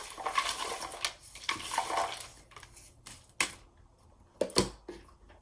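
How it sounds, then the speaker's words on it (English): Tarot cards are shuffled in bursts, giving crisp papery riffles and slaps that come in uneven clusters, fairly close and loud with short pauses between them. "It might be a little bit loud as I'm shuffling"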